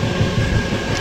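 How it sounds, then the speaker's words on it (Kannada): Train running through Braganza Ghat in the monsoon, a low continuous rumble with wind-like noise, steady and loud throughout the short moment, no voices. "ಟ್ರೈನ್ ಕಾಣಿಸ್ತಾ ಇದೆ"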